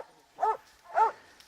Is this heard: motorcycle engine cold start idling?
no